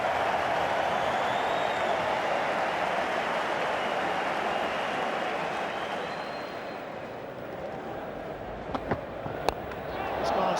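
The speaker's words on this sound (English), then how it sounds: "The crowd are going berserk." A huge cricket crowd roars continuously at an Ashes test between Australia and England, a dense, steady wall of cheering that fades slightly before a few sharp claps near the end.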